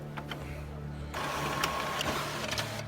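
An HP OfficeJet Pro 8710 all-in-one printer prints a page, giving a low mechanical hum that steps up to a busier whirring and clicking of the print mechanism partway through, under light background sound.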